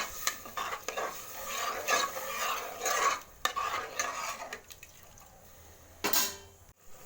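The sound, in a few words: stirring rice and water in a pot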